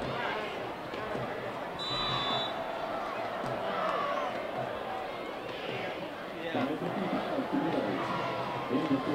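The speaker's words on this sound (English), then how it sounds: "Crowd cheering on their defense to stop them here." High school football crowd cheering on the home defense, a broad roar of many voices in the stands under an announcer's play-by-play, steady and moderately loud throughout.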